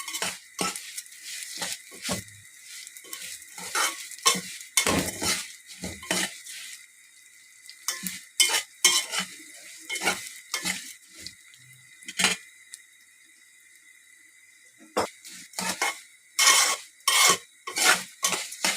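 Vermicelli frying in ghee in a pot is stirred with a metal spoon, giving repeated close scraping clinks against the pot over a faint sizzle. The strokes come in irregular bursts with short pauses and no talk.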